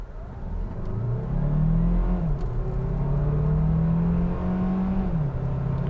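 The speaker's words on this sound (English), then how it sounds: "let's go ahead and test out what we can get 0 to 60 wise in this vehicle" A 2022 Hyundai Tucson plug-in hybrid SUV accelerates hard from 0 to 60 in sport mode, its engine droning steadily and rising in pitch through quick short shifts, loud and continuous with no talk.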